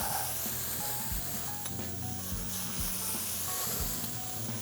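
Shrimp sizzle steadily in a frying pan for shrimp scampi, a dense, even crackle with soft low thumps and occasional faint clinks, close and unbroken throughout.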